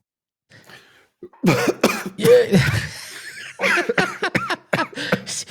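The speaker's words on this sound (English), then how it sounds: "He was so excited he started to cough." A man coughs several times in harsh, close bursts, with a brief spoken word in between.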